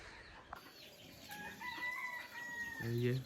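A chicken crows and clucks near a home kitchen, with a brief call rising near the end, while a person talks softly in the background.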